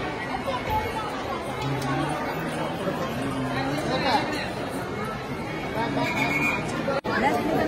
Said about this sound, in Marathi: प्रचंड अशी गर्दी आहे